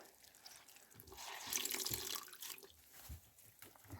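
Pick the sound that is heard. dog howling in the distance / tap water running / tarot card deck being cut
tap water running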